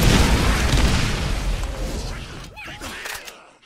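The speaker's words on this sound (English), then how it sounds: "I wanna try and shoot at those grenades." Grenade explosions in the game Borderlands: a loud, booming blast at the start that rumbles and decays over a few seconds, followed by quieter scattered effects and a short pitched game sound.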